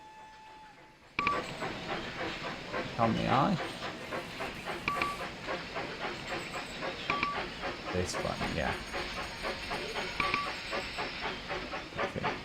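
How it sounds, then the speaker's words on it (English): Steam train in the Railroad Tycoon 3 video game chuffs steadily along the tracks in a rhythmic, continuous beat, with short bell-like tones repeating, while someone talks over it. "I'm going to watch this train go along."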